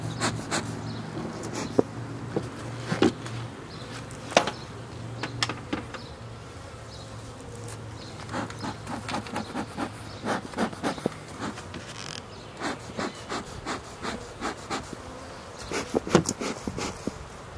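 Honeybees hum steadily around an open beehive during an inspection, a continuous close buzz with scattered clicks and knocks from hive handling throughout.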